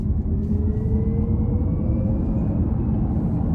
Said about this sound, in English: it kind of pumps through this futuristic whoosh sound